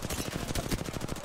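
Rapid video game gunfire, a fast, even stream of loud shots close by with no pauses.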